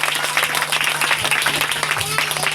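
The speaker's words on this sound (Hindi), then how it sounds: "जोर से ताली बजा के तारीफ करेंगे प्रभु की।" A church congregation claps loudly and steadily in praise throughout, a dense, continuous wash of applause with a faint voice beneath it.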